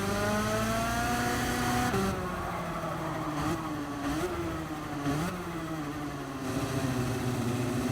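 A racing car engine in Gran Turismo 7 online multiplayer whines loudly at high revs, the pitch swooping down and back up several times with quick gear changes and lifts after overshooting a corner and running off course.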